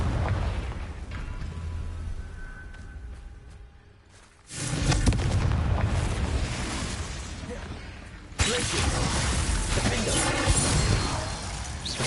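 Confringo spell explosions in Hogwarts Legacy go off as heavy booming bursts, a quieter stretch giving way to a loud blast around the middle and another sudden, sustained eruption later, rumbling and close.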